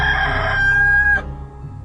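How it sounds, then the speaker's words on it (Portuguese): A rooster crows once in a dramatized Gospel of John reading, loud and close, one long sustained call that cuts off sharply near the end, leaving only a quiet background with no talking. "no mesmo instante cantou o galo"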